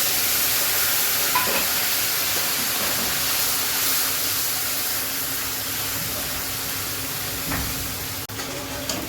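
Onion paste frying in hot oil with dried chillies and whole garam masala for a doi katla fish dish, a steady loud hissing sizzle with a few faint spatula knocks, close and continuous, no speech.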